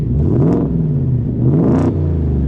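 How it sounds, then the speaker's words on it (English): A 2023 Ford F-150 Raptor R pickup truck engine revs hard twice in quick succession, each burst climbing and falling back to a loud, rumbling idle. "We'll give it a few quick revs just to hear what it sounds like."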